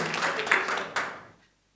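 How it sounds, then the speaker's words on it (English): A brief burst of audience applause at a marketing talk, a dense patter of clapping that swells and then fades out within about a second and a half. "Please give a round of applause"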